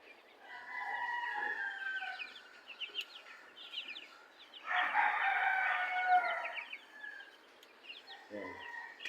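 Young broiler chicks about eleven days old peep and chirp steadily in a brooder, with a dense, louder burst of overlapping calls midway and a brief low rustle near the end.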